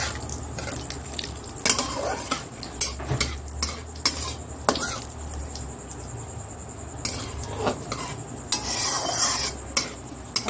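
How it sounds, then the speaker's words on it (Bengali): Cumin seeds and bay leaf sizzle in hot oil in a wok, a steady close hiss broken by sharp clinks and scrapes of a utensil stirring against the metal. "এখানটায় কড়াইটার মধ্যে তেল দিয়ে দিয়েছি, দিয়ে একটু জিরে দিয়েছি, সাদা জিরে দিয়েছি"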